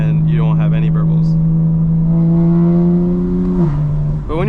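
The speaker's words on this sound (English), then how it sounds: "I think it's a lot of fun actually to have this much burble going on" BMW M4 engine holds a steady droning note inside the cabin, then drops in pitch near the end with a short gap and crackle, while someone talks over it much of the time.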